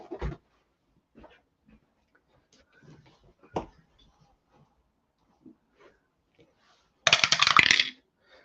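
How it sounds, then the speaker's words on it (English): Dice dropped for a tabletop APBA baseball game of a 1978 Yankees at White Sox matchup, a brief bright clattering rattle near the end, following quiet scattered clicks and a voice. "And we drop the dice."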